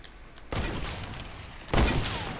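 Two loud, close hunting rifle shots in a Fortnite battle, each a sudden broadband crack with a long noisy tail, spaced about a second apart with no talk.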